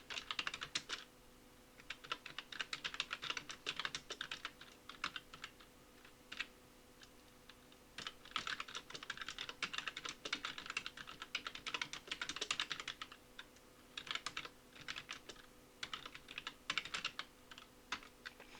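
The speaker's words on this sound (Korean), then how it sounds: "그러면 3번 여기에 바로 입력을 해볼까요?" Fingers type on a computer keyboard in bursts of quick, light clicks with brief gaps, fairly quiet and close, with no talking over them.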